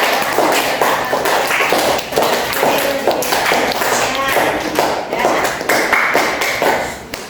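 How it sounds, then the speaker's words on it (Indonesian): Classroom students applaud a group after its presentation, a dense, steady patter of many hands clapping continuously throughout. "Beri aplaus untuk kelompok 1 yang"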